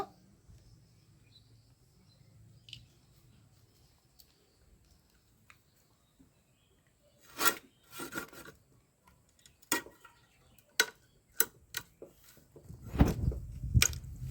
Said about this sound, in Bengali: এখন আমি ডিঠা মাছটা কেটে নেব